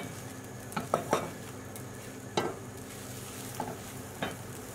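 French omelette egg mixture is turned over in a pan: a soft, quiet sizzle runs underneath a handful of light scrapes and taps of the utensil against the pan, spaced irregularly and heard close with no speech.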